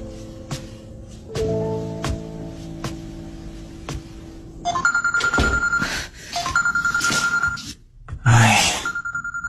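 A telephone rings unanswered in a series of bright, repeated electronic rings that start partway through, loud and close, after a quieter stretch of steady tones.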